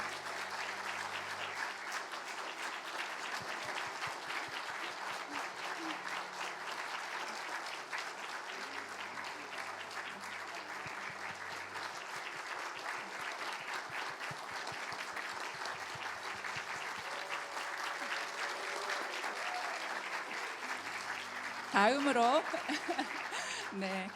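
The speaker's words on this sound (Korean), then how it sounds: "여러분 큰 박수로 축하해 주시기 바랍니다" A church congregation applauds newly appointed leaders at a Sunday worship service, a steady, full round of clapping that carries on for about twenty seconds, with some chuckles mixed in and a brief louder burst near the end.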